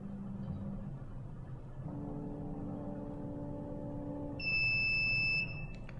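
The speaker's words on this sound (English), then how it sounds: "it's going to beep once." An UP! Mini 3D printer gives a single high, clear electronic beep after its warming-up sequence, lasting about a second over a low steady machine hum.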